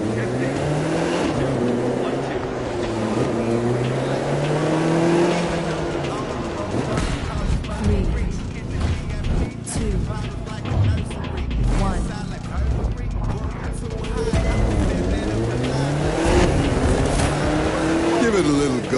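Classic cars racing in The Crew 2 on a closed course, engines droning and revving continuously with shifting pitch, tire squeal and mechanical noise throughout, loud and close.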